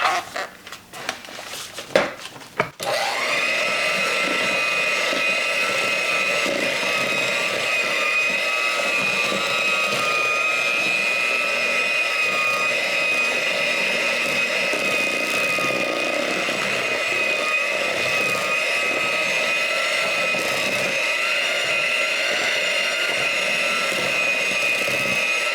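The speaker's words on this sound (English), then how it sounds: "I'm going to switch over to my mixer." An electric mixer whirring through cinnamon apple cake batter, starting with a few clunks and then settling into a loud, constant motor drone with a high steady whine that runs unbroken to the end.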